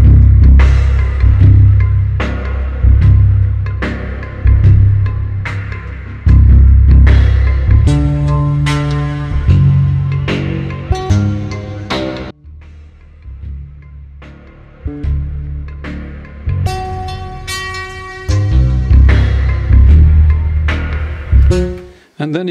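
A modular synth beat processed through the resonator on an MSV synthesizer, with punchy low thumps and ringing, metallic resonant tones pulsing in a steady rhythmic sequence, loud and up close.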